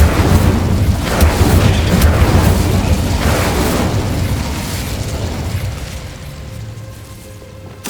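Incendio and Confringo spells burst in quick succession during Hogwarts Legacy combat, loud fiery booms and pops that crowd together, then thin into a fading rumble with a last sharp hit at the end.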